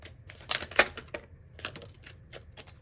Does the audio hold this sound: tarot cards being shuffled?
yes